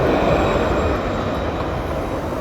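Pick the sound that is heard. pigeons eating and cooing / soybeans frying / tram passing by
tram passing by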